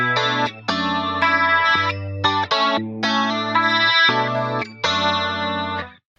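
Clean electric guitar shimmers through a wide chorus effect in an 80s style, playing a sequence of sustained chords and short stabs with brief gaps, clear and present until it fades out at the end.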